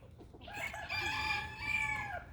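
A farmyard chicken gives a single drawn-out, tonal call lasting over a second, close and fairly clear above a low background rumble, with no one speaking.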